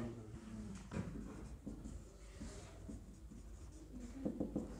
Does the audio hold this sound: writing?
yes